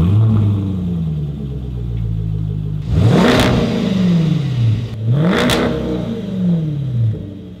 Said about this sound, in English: So it's still got the original, but you wanted the V8 noise.